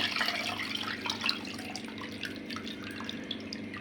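Tamarind water pours steadily into a pot for fish curry with a continuous splashing, trickling sound, close and moderately loud, with no talking.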